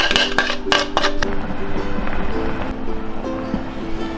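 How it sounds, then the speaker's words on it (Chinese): Spoon stirring black rice porridge in a pot, scraping and clinking against the sides in quick repeated strokes early on, then softer, steadier swirling with faint bubbling underneath. "这个黑米粥呢，在煮的过程中要不停的给它搅拌，防止它粘锅"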